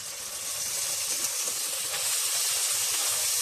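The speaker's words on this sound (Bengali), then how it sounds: "এখন আমি দিয়ে দিব সামান্য জল" Water hits fried spice paste in a hot pan, a steady close hiss and sizzle of steam with crackling bubbles throughout, alone without voices.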